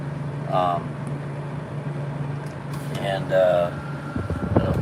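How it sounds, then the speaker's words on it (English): A car-style air conditioner, the same type fitted in a Ford, blows a steady droning hum with a low tonal whine beneath someone talking nearby. "Air conditioner, same kind of AC that's in a Ford."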